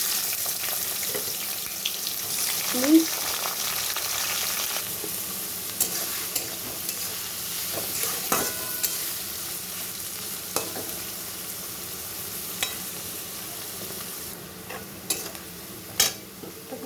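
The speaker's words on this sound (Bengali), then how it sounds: "কড়াইয়ের মধ্যে ঘি একটু সাদা তেল দিয়ে গরম মশলা দিয়েছি ফোড়ন এখানে দিয়ে দিচ্ছি ক্যাপসিকাম" Capsicum frying in ghee and a little white oil with garam masala in a kadai for fried rice, a steady soft sizzle with occasional stirring clicks and scrapes throughout.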